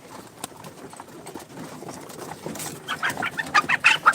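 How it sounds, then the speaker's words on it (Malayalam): Chickens cluck and chatter nearby, growing busier and louder toward the end, with scattered short calls. "കോഴി കോഴി കോഴി കോഴി"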